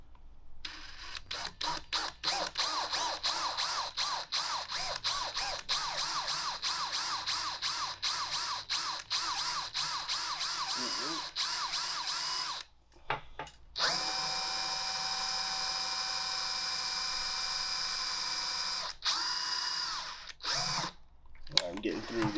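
Power drill boring through the steel of an electronic safe, a loud continuous grinding whine with rhythmic stutters, pausing briefly before resuming steady drilling to the end.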